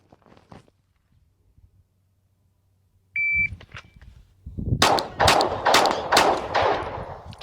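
A shooting drill at targets with a par time: a shot timer's electronic beep starts a rapid string of loud close gunshots, a short pause for a reload, then more sharp shots in quick succession.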